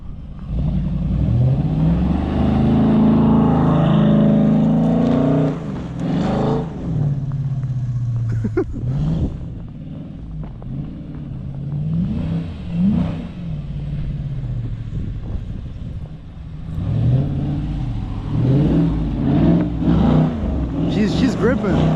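A 2014 Dodge Charger R/T with all-wheel drive, switched to rear-wheel drive, revs hard in snow during burnouts and drifts: a loud, sustained engine roar that swells and dips repeatedly, with people talking over it throughout.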